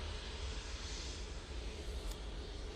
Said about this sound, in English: Easyjet lined up and ready to go now.